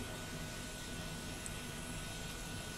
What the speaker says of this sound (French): et on arrive à démarrer notre moteur.